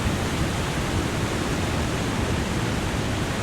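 Loud, steady roar of a waterfall in the survival game The Long Dark, a dense broadband rush of falling water that stays constant throughout with no voices.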